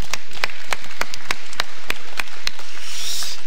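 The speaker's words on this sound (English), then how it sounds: "let's give these parents a round of applause" A church congregation applauds for parents during a live service, with a steady stream of crisp, scattered hand claps that carry on throughout without any talking.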